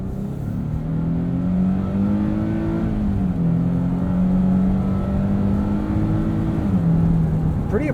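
2022 Nissan Frontier SV 4WD crew cab engine in tow haul mode, heard from inside while pulling a 5,000–6,000 pound boat: a loud, steady drone that climbs in pitch, shifts down, and climbs again, over constant road noise.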